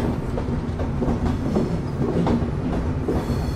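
The Chitra Express, a Khulna-to-Dhaka train leaving Poradah junction, rumbles steadily on the rails, heard from inside a carriage, with rhythmic clickety-clack of the wheels under a constant low roar.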